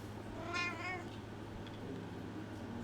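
A cartoonish cat meows once in a video game, a short rising-falling mew over a low steady background hum, with no talk.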